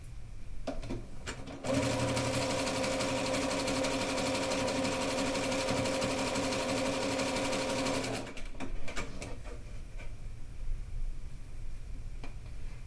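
A sewing machine stitches through thick rag quilt layers in one steady, loud run of rapid needle chatter lasting several seconds, with quieter handling clicks and rustling before and after.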